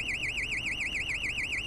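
Alarm going off in the video game GTA 5, a loud, continuous warbling electronic siren rising and falling rapidly in a steady rhythm.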